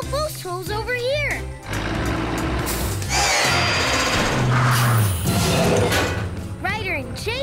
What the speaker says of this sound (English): Drill post holes over here.